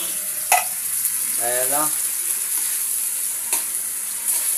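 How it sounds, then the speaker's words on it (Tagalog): Toppings sautéing in a pan give a steady close sizzle with a few sharp clatters of stirring, while a voice briefly speaks over it. "Lutuin muna natin yung sahog na yun, no?"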